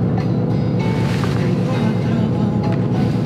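Steady low car engine rumble with continuous broadband road noise, loud and close, no clear speech on top.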